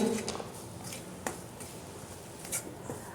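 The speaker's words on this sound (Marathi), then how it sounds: "आता ह्यामध्ये तीन चमचे बेसन टाकून मंद गॅसवरती ह्या मसाल्यासोबत भाजून घ्यायचा आहे" Three spoons of gram flour are roasted with ground masala in a pan over low heat. Quiet scraping and stirring from a utensil against the pan is broken by a few faint metallic clinks.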